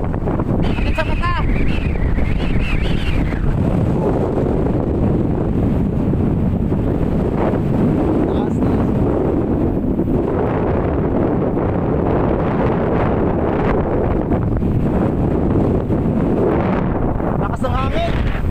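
Strong, steady wind buffeting the microphone in a continuous roar at Sealine Beach, Mesaieed, Qatar, with voices and brief exclamations breaking through now and then.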